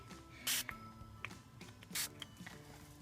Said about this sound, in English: I always like to spray somewhere else because sometimes it lets out just big blobs of mist